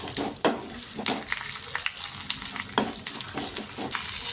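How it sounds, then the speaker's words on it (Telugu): Chana dal, garlic, curry leaves and dried chillies frying in hot oil, with crackling sizzles and scraping stirs; fairly quiet and close, no talking. "కొంచెం శనగపప్పు ఒక మూడు నాలుగు ఎల్లిపాయలు కరివేపాకు ఎండుమిరపకాయలు ఇవన్నీ ఒకసారి కలుపుకుందాం"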